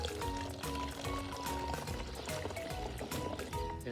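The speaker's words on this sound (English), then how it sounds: "Put 2 cups of vinegar. Inside the bottle." Vinegar glugs and splashes as it is poured from a cup into a plastic bottle for a homemade water rocket. A continuous, close, bubbling stream runs throughout.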